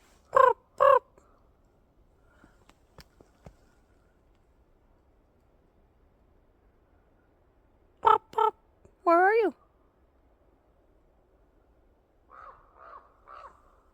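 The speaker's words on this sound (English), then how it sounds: "Crows come to visit" Crows caw loudly nearby in short bursts of two or three harsh calls, separated by long quiet gaps, while a person briefly speaks.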